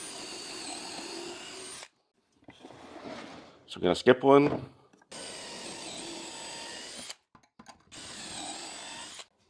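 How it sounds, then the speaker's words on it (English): Power drill boring into the underside of a laminated bench top board, a short whirring burst of a few seconds between stretches of steady background noise, with a person speaking briefly nearby. "You're drilling into the bottom the way you're planning on, not wrecking the top"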